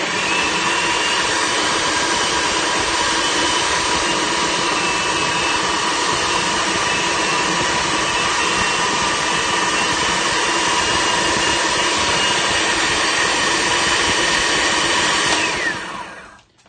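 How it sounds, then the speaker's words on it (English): An electric mixer whirs steadily and loudly while beating almond butter bar batter for carob chocolate chip bars. The drone runs continuously without talk and cuts off just at the end. "now I'm going to turn this on, and I'm going to mix this"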